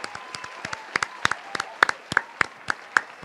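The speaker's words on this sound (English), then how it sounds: "Let me give her a round of applause." A small group claps for a pregnant guest, with sparse, uneven hand claps scattered across the moment rather than full crowd applause, lightly mixed with background voices.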